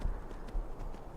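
Horse hooves clip-clopping in the Skyrim video game, a couple of soft, low thuds in an irregular trotting rhythm, faint and muffled under a quiet background.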